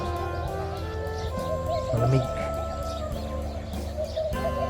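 Birds call at dawn by Al Qudra Lake on a foggy morning, with layered cooing and chirping from several birds at moderate distance and a person speaking briefly over them.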